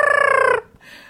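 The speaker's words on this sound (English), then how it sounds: "It's leaking the sounds of birds dying." A single loud turkey-like gobble from a leaking stage prop, a rapid rattling warble lasting about half a second, followed by a brief softer rustle.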